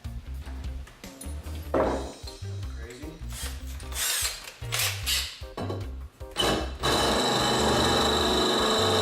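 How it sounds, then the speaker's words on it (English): A power drill with worn bits whirs in several short bursts, revving up and down as it drills a hole for a car's O2 sensor, then runs steadily and loudly at the end. "now I'm just gonna mark and drill the hole for the O2"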